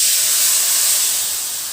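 Halwa mixture hits hot ghee in a pan and sizzles loudly, a dense steady hiss that fades slightly toward the end.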